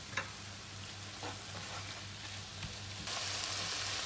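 Semi-sun-dried tomatoes, tipped in whole, sizzle steadily in a frittata pan as they are stirred, a close, even frying crackle with a few brief scraping clicks, growing slightly louder near the end.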